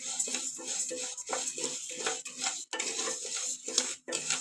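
Rice and chana dal dry-roasting in a pan, stirred continuously so the grains scrape and rattle against the metal in a quick, rhythmic, close-up pattern with a faint sizzle underneath.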